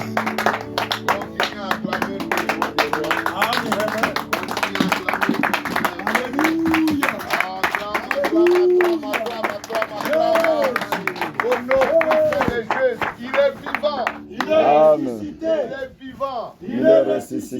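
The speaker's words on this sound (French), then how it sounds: "Acclamons très fort pour la gloire du Seigneur" A church congregation clapping and cheering in praise during a lively service, rhythmic applause mixed with shouting voices and a leader's talk, loud and sustained before tapering off near the end.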